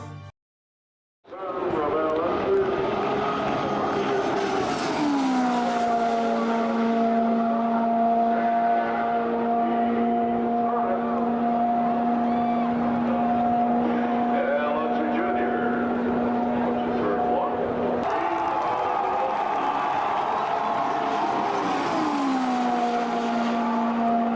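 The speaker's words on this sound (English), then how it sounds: "they could accumulate at times 240 to 250 miles an hour, while they sounded like a damned jet" Indy 500 race cars roaring past at 240 to 250 mph, a loud sustained high-pitched engine whine that swells in and holds steady, with a pitch drop as cars pass close by.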